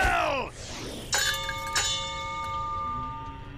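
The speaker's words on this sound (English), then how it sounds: "Ring the bell!" A cartoon bell, sounded in an animated Pac-Man Halloween adventure as a call to summon a giant cow, is struck twice and rings on with long sustained tones after a brief vocal sweep at the start.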